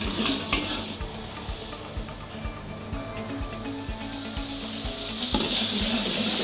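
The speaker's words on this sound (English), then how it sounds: "We fry our tomatoes." Tomatoes sizzle and crackle steadily as they fry in a little oil in a pan, with occasional stirring clinks and a brief burst of louder hissing near the end.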